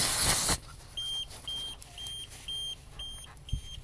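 A series of six short, evenly spaced electronic beeps from a camper van's tire pressure monitoring sensor, fairly faint, following a brief burst of noise at the start.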